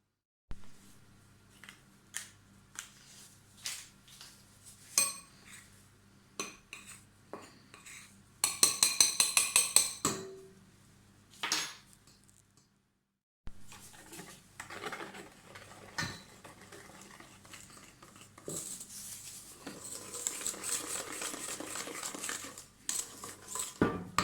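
Muffin batter of flour and baking powder mixed in a bowl, with scattered clinks and scrapes of a utensil against the bowl, several louder bursts of clattering and brief pauses, fairly close and moderately quiet.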